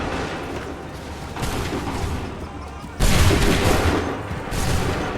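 Musket volleys in Assassin's Creed 3, several loud rolling bursts of massed gunfire a second or two apart, each crackling and booming before fading into battlefield noise.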